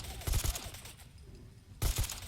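A companion's .308 assault rifle lays down suppressing fire in Fallout 4 VR, giving two short clusters of loud, rapid shots separated by a quieter gap.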